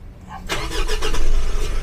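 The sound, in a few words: Mitsubishi Triton Exceed 2022 pickup engine starting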